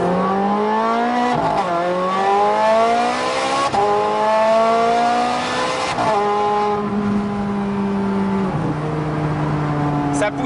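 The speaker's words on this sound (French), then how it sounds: "c'est entendre le bruit du V8" The V8 of a Novitec Rosso-tuned Ferrari F430 Scuderia Spider 16M revs and pulls hard, its loud rising pitch broken by a few quick gear shifts before it winds up again, close and continuous.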